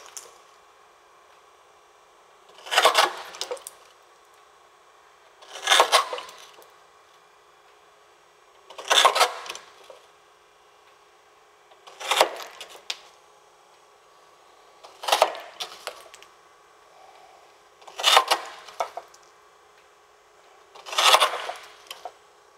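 A hydraulic Beaver stone chisel machine splits stone in seven evenly spaced, sharp cracking bursts about three seconds apart, each standing out loudly against a quiet background hum.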